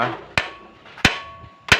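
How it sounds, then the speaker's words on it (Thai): A hammer strikes the head of a tight nut three times in a slow, even rhythm, each blow a sharp, loud metallic crack with a brief ringing tail, close by. "ก็มีแค่นี้ครับค้อนหนึ่งอันนะฮะแล้วก็เคาะไปตรงหัว"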